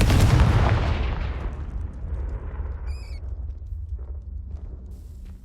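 A Confringo blasting spell explodes in Hogwarts Legacy, a loud booming blast that rumbles and decays over several seconds in a dark corridor, with a faint magical chime partway through and no talking.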